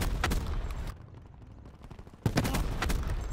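Rapid bursts of Stingray gunfire in Black Ops 4, loud and close, with a short quieter gap in the middle before the shooting resumes.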